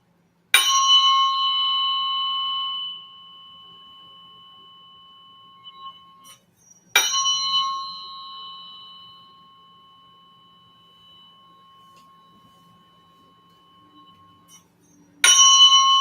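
A tuning fork struck three times during a biofield tuning session, each strike a clear, pure ring that hangs and slowly fades before the next, the first tone fairly full and the later ones thinner and duller.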